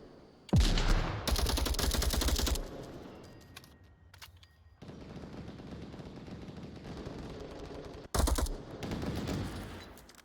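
Rapid bursts of automatic gunfire from both sides in an Onward VR match, loud and close, with dense volleys near the start, a sustained rattle through the middle and another sharp burst near the end.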